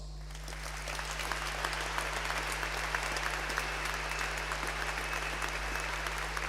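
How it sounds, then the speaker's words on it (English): Audience applause at a Boston College graduation ceremony for a business degree prize, steady sustained clapping from a large crowd filling the hall throughout, with a low constant hum underneath. "thank you very much for the clapping"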